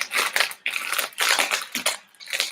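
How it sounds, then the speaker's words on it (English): Crinkling and crushing noise, likely plastic or packaging, comes in irregular bursts of rustling, fairly close and moderately loud, with no talk over it. "Sorry for the crinkling noise."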